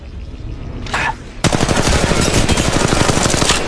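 Rapid automatic gunfire from a VK47 rifle in the mobile shooter game Apex Legends Mobile, preceded by a short quieter sound, then a loud sustained burst of evenly spaced shots that runs to the end.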